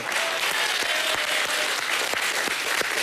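An audience at a Halloween costume night applauds steadily, dense clapping from many hands filling the room without a break.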